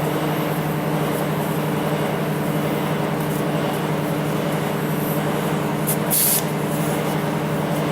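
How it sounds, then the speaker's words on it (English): Air hisses out of a tire through an unscrewed Schrader valve, a loud continuous rushing spray that holds steady throughout, with a brief sharper burst near the end. "I'm going to just unscrew my Schrader valve and let it deflate."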